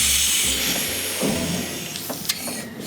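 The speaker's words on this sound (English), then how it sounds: "we're just gonna blow the oil back to the unit" A CO2 cartridge device blowing oil back through a long AC line to the unit during a tune-up, producing a loud, steady, close hiss that rushes on throughout with a few small clicks and spurts.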